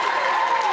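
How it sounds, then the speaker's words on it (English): A convention panel audience at MomoCon 2013 breaks into steady, dense applause and crowd noise, loud and close throughout, with voices mixed into the clapping. "You guys should give yourselves a round of applause."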